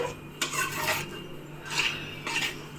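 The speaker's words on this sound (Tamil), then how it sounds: "சாப்பாடு பாத்திரத்தை அடுப்பில் வச்சிடலாம்." A metal cooking pot is set down and shifted on a home stove while biriyani is being prepared, giving a few distinct clanks and scraping rattles with quiet pauses between them.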